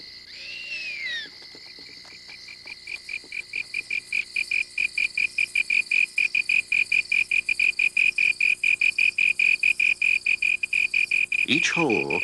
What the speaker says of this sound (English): magnifying the sound made by the slender tree cricket that shapes them